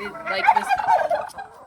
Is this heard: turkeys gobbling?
yes